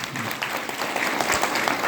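An audience at a health and wellness talk in Nepal applauds, a steady wash of many hands clapping together, fairly loud and continuous, with some voices mixed in.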